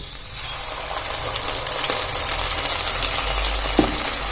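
Steady broadband frying hiss of ginger-garlic paste with onions in a pan, fairly loud and continuous, with a few faint scraping clicks from stirring.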